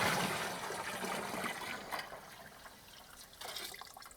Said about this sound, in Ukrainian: Спочатку додаю до води цукор у вигляді сиропу.